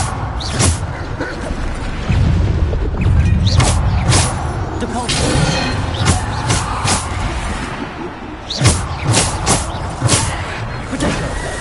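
Repeated Bombarda explosion spells in Hogwarts Legacy go off as sharp, loud blasts in quick succession, separated by rumbling, mechanical game noise and shouted spell names.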